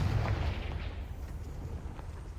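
A Confringo fire spell in Hogwarts Legacy explodes as a deep, rumbling boom that is heaviest at the start and then rolls on as a low, steady roar before slowly dying away.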